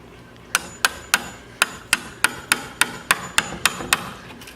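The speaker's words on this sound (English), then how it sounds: "you're literally tapping in and chiseling out the wood until you can make an indentation that's going to be the shape and depth you need for your hinge" A hammer strikes a chisel again and again, cutting a notch for a door hinge into wood. Roughly a dozen sharp, evenly spaced taps ring out close by, with no talking.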